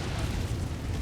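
Heavy, sustained mech gunfire in the MechWarrior 5 Mercenaries video game, a dense, loud rumbling barrage of booming impacts with no pauses and no talk over it.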